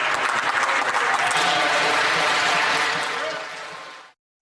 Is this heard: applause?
yes